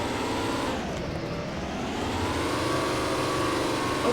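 Car engine driving in Minecraft, a steady loud motor drone with shifting pitch throughout, no talking.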